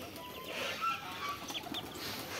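Free-range desi chickens kept on a rooftop, soft close clucking and chirps with a light rustle of movement.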